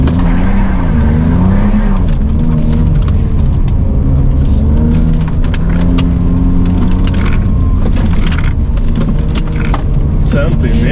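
A car pushed hard around a Christmas veterans' slalom course, its engine droning loud and close from inside the cabin with revs rising and falling through the turns, while a voice talks over it.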